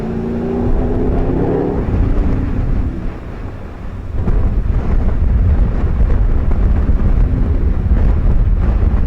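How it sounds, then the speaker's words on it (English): Strong gusting wind at outdoor snowmobile drag races buffets the microphone in loud, continuous roaring waves, easing briefly before surging back harder, with a faint engine drone early on. "the wind is really gusting"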